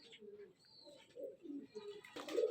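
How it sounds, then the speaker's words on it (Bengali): Pigeons coo at a pigeon keeper's house that holds many breeds, including Madras and Giribaz birds, giving a series of soft, low, rolling coos close by that swell and overlap toward the end. "দাদার এখানে সব রকম পায়রা রয়েছে"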